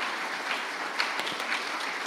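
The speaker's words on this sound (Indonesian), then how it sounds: "Tepuk tangan dong untuk semangatnya Pak Meki." Brief burst of audience applause at a talk show with a provincial governor, a dense, steady patter of clapping filling the whole moment.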